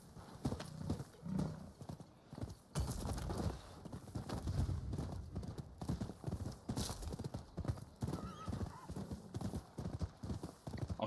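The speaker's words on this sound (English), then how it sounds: "Good horse?" A horse walking in the video game Rise of the Ronin, hooves clip-clopping at a steady pace with an occasional snort or whinny, moderately close amid soft ambient game sound.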